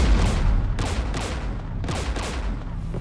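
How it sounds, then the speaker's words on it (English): Sci-fi gunfire from the Mass Effect 3 video game, loud crackling bursts of shots in quick succession under steady battle noise, with no voices. "We're taking fire."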